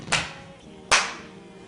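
Two short, sharp bursts of clapping from a group of people, the first brief and the second stronger, close by and with no voices over them.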